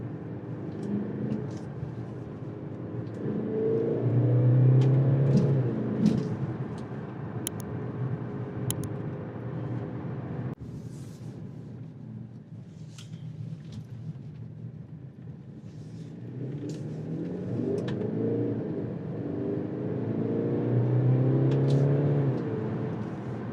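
A Mercedes-AMG C300 accelerates under paddle-shift control, its engine rising in pitch through two climbing pulls with a gear change between them, heard steadily from inside the car.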